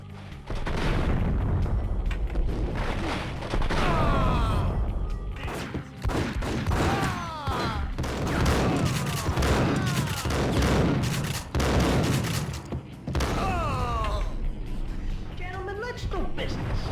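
Gunfire during a shootout with mobsters in Max Payne: dense, loud volleys of shots and heavy booms pound almost continuously, with someone narrating over the top throughout.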